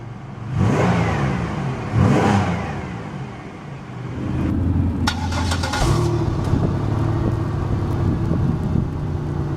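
A 1998 Pontiac Grand Prix GT engine cranks and catches, with two quick rev bursts early on before settling into a steady, close, rumbling idle with a faint higher whine on top.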